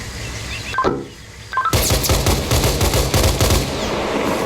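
Rapid bursts of automatic gunfire in the military shooter Arma Reforger, a brief pause after an opening shot then sustained loud volleys with close echoing cracks; no talk over it.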